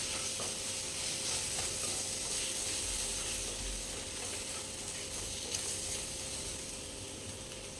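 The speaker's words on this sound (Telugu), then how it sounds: "ఇప్పుడు ఈ మసాలా మొత్తం వేగిపోయింది కదా." Ginger-garlic masala frying in a pan for a Nellore-style tamarind fish curry, giving a steady, close hiss of sizzling oil broken by soft scraping and clicking stirs, with no talking.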